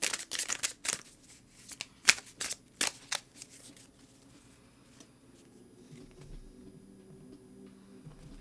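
Tarot cards being shuffled in quick, crisp riffling bursts close by, loudest in the opening seconds, then thinning to quieter scattered taps over a low background hum.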